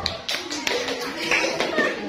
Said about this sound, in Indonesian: tepuk tangan buat Ivan